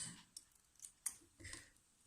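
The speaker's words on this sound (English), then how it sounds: "Trim your threads like that." Scissors snip threads on a sewn fabric face mask, making about four soft, close, crisp cuts spread over two seconds in a quiet room with no talk.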